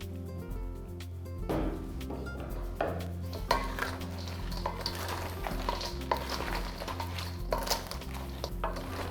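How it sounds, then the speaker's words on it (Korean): Two ladles toss cream shrimp through sauce in a large batch for military mess cooking, giving a steady, close clatter of metal scraping and clinking against a pan, continuous and busy with no talking. "국자 2개로 뒤적거리면서 해주시면 되고"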